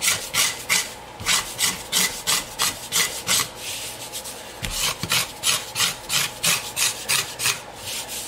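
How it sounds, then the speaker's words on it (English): A hand scraper levels padauk wood and an inlay strip on a custom guitar, making rhythmic, close rasping strokes in quick repeated bursts with short pauses between them, no talk. "It'll scrape the uh, Padauk and it'll scrape the actual inlay strip as well and get them perfectly level."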